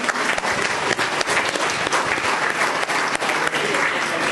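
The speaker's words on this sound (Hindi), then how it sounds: "बोलिए जोरदार तालियों के साथ, खुद के लिए तालियां बजाइए।" Loud, dense applause from an audience at a Holi gathering held alongside a Women's Day celebration, a continuous wash of many hands clapping without a break, close and filling the room.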